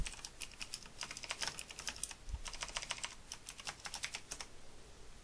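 Rapid keystrokes clatter on a computer keyboard in quick irregular bursts, close and fairly quiet, with no voices.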